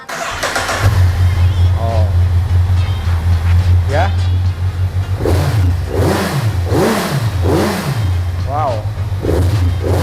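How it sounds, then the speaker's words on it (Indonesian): A motorcycle with two stock exhausts starts up and settles into a loud, close, deep idle, then takes several sharp revs. Voices exclaim briefly over the engine. "langsung aja kita coba dengarkan perpaduan dari dua knalpot ini yang standar"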